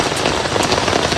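Steady rain falls on a rainy day in a hometown, a dense, even patter of drops that fills the whole brief stretch with no voices.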